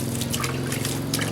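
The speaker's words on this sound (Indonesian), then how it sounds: "Nah, seperti ini, kita siram seperti ini." Steady trickle of probiotic liquid poured onto goat feed for fermenting, a continuous watery dribble close by with a faint low hum underneath.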